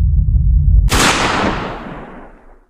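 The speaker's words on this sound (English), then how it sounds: "We're gonna shoot myself again." A single loud shotgun blast in Buckshot Roulette, fired at the player himself: a sharp crack after a low rumbling lead-in, then a long decaying reverberant tail that fades out.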